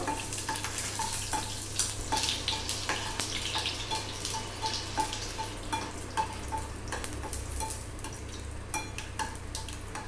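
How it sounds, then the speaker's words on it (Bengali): Dried red chillies frying in a pan, a busy crackling sizzle with stirring clicks and scraping running continuously at close range, no voices. "শুকনো লঙ্কাটা আগে ভেজে নেব।"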